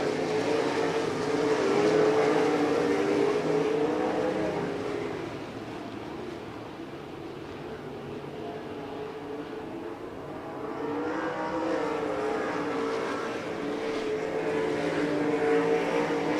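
RaceSaver sprint cars race around Interstate Speedway, a loud continuous engine roar swelling and fading as the pack runs nose to tail, with a deeper lull midway before the noise builds again.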